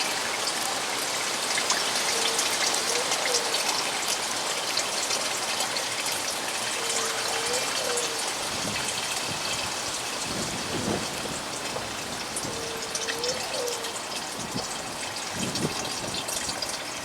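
Melted beeswax poured from a pot through cheesecloth while rendering wax, a steady rushing, hissing pour that runs continuously and fairly loud, with a few faint tones in the background and no talk.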